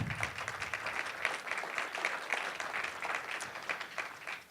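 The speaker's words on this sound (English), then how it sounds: "Let's take a minute just to celebrate that, shall we? How about some applause?" Audience at a Gonzaga University event applauding a fundraising milestone, a dense, steady stream of many hands clapping at moderate distance, sustained throughout without talk.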